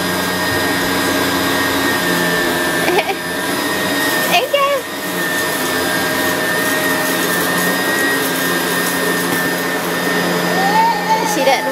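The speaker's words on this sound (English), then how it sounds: "You vacuum in with Dad." A household vacuum cleaner runs continuously with a steady, loud motor drone in a home, briefly punctuated by small knocks and bumps.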